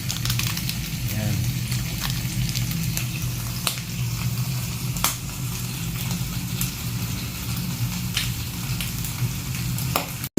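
Sisig fries in a hot pan, a dense steady sizzle close up with occasional sharp ticks and scrapes from stirring, continuous throughout.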